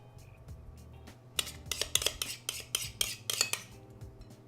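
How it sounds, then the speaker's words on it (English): Spoon clinking and scraping in a baking dish while ricotta is layered over sweet potato, a quick series of close, bright metallic taps over a faint low hum, with no talk. "I'm just going to layer the ricotta on top, and I'm even using the same spoon."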